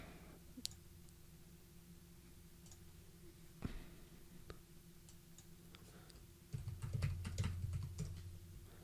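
Keys clack quietly on a computer keyboard during an IPMI login, with sparse single clicks, then a quicker burst of typing near the end over a low steady hum.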